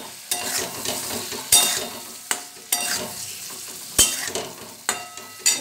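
Eggs dropped into spicy masala frying in a pan for a Bengali-style egg curry (dim kosha): a steady sizzle broken by repeated sharp clinks and scrapes of a spatula stirring, close and fairly loud.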